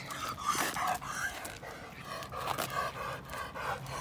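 A dog pants close by in a steady, rhythmic run of quick breaths that stays soft and continuous throughout, with no voices.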